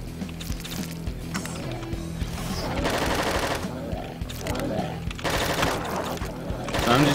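Rapid video game gunfire crackles in repeated bursts over a busy, noisy game soundtrack, with a voice talking at times over the shots.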